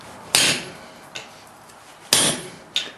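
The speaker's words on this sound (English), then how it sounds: "whenever I'm punching, switch to a heavier hammer" Hot steel being punched with a heavy hammer while forging bolt jaw tongs: two pairs of sharp metallic strikes, each loud blow followed by a lighter rebound tap, ringing briefly with no talk.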